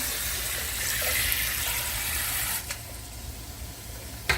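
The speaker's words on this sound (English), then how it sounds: "I'm going to run a little bit of cold water over them." Cold tap water runs steadily over freshly boiled eggs in a kitchen pot, a continuous close hiss of flowing water with a brief splash or clatter near the end.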